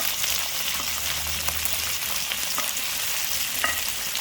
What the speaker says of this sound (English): green capsicum, and saute it.